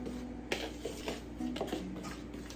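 A big spoon mixes apple butter cookie dough in a bowl, making repeated clinks and scrapes against the sides in an irregular rhythm, close and moderately loud.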